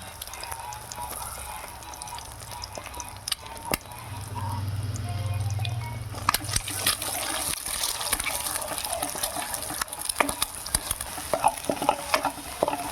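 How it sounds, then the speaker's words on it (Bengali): Eggs fry in a pan while being stirred, giving a continuous close sizzle overlaid with busy scraping and clattering of the utensil that grows more frequent toward the end, over a low rumble early on. "ডিম ডাল তরকারি বানাবার জন্য ডিমগুলোকে এইভাবে ভেজে নিতে হবে।"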